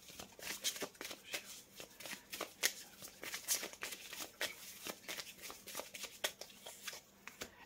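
Tarot cards are drawn and laid out one by one on a table, giving soft, close card flicks, slides and taps in an irregular rhythm, heard alone and faint.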